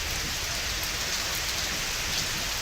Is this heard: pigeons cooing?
no